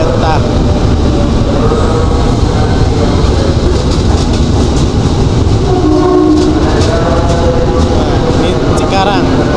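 A loud, continuous rumble of a 12-car KRL electric commuter train bound for Angke via Manggarai rolling in close by, with rail clatter and a faint horn-like tone over the noise, and people talking.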